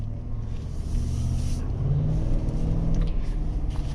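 A 2025 GMC Yukon XL AT4 full-size SUV with a 5.3-liter V8 drives along a road, its engine a steady, low rumble heard from inside the cabin with a slight swell in the middle.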